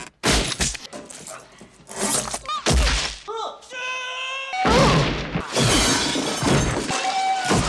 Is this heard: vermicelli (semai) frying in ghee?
no